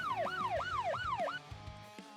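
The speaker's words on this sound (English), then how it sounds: "A siren draws closer." A wailing siren in the Nikke video game city, rising and falling in four quick sweeps that drown the scene before cutting off, leaving faint low thuds behind.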